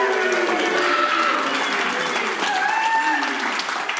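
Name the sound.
rapturous audience applause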